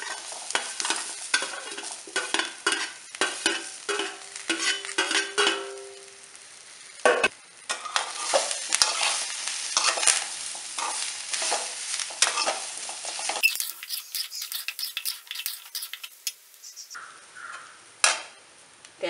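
Tapioca cooked for kappa upma is stirred in a frying pan with a mustard seed, dried red chilli and curry leaf tempering, giving continuous close scraping and sizzling with a few brief pauses and some clinks toward the end.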